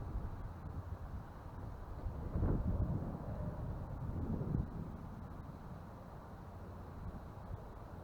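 Low, steady wind noise rumbles across the microphone during windy-weather drop-shot fishing, swelling in a couple of gusts before settling back.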